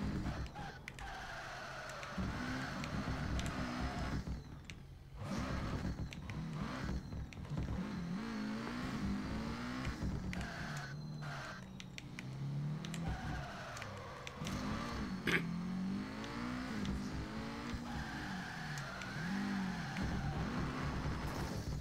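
Car engine in the Furidashi Cyber Sport drifting sim: a continuous revving drone that rises and falls as the throttle is worked through slides, with tire squeal mixed in, steady and moderately loud with brief dips.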